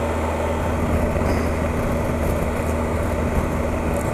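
A 2018 Triumph Tiger 1200 XRX motorcycle engine held around 3,500 rpm in running-in mode, a steady, even hum with a low tonal drone and road rush underneath, constant in level throughout.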